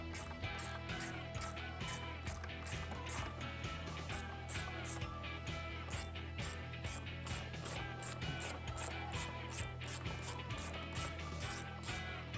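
A hand ratchet clicks in quick repeated strokes while two 10mm bolts are backed out at the front of a 2018-2021 Jeep Wrangler JL engine bay during a cold air intake install, crisp and close with no talking.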